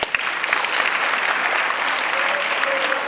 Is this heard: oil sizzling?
no